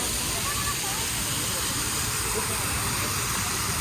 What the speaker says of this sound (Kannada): ಇದು ವಾಟರ್ ಫೌಂಟೇನ್ದು ಫುಲ್ಲು ನೀರು ಸಿಡಿತಿದೆ ನೋಡಿ ಗೈಸ್.